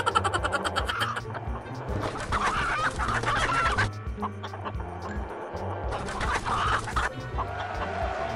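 Chickens clucking over a soundtrack with music and effects in the video game Manok na Pula, the clucks steady and close amid busy bursts of noise.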